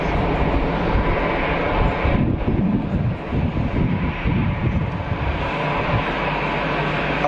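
An Air Dolomiti airliner, the Lufthansa subsidiary, at Geneva Airport, heard as a steady broad engine roar with gusty wind buffeting the microphone throughout.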